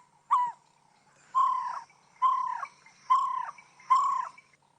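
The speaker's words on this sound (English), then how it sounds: "That's the barred owl, everyone." A barred owl calls in a series of four or five hooting notes at an even pace, each note rising and falling, clear and fairly close against a quiet night background with no talk.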